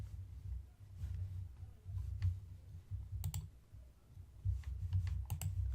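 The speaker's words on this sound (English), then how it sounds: "So I'm going to type it in again." Quiet, close clicking of computer keyboard keys in irregular short bursts, with a few sharper clicks standing out over a low background hum.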